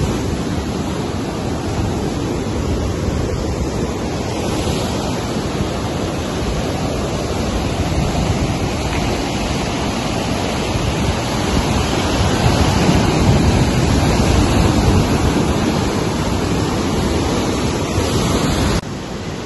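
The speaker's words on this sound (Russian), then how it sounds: "море сегодня успокаиваться не собирается" Rough sea waves on the Odessa coast, a loud continuous roar of surf with wind-blown rumble, swelling slightly toward the end.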